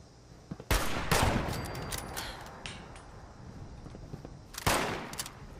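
Gunfire in the Fallout 76 video game, two sharp loud bursts of shots with a rumbling tail between them, standing alone without talk.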